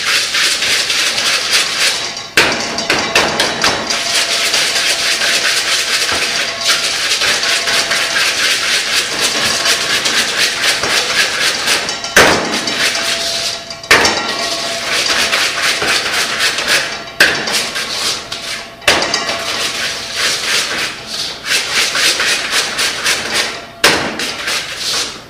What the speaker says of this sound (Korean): 크림치즈를 부드럽게 해주십니다